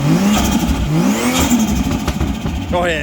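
A Ford Falcon FG's engine is revved hard, rising and falling loudly up close, with a final climbing rev at the end, while people talk over it.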